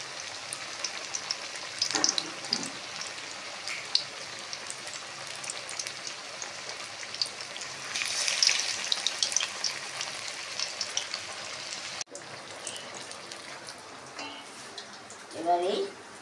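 Stuffed ash gourd slices fry in oil, Bengali style, a steady crackling sizzle like light rain with intermittent stirring clinks, a brief pause, and a faint voice near the end.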